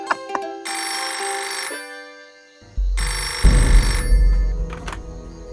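A telephone rings in a Hindi TV drama scene: two long bursts of bright electronic ringing separated by a pause, with a low thud and rumbling background noise under the second ring, no speech.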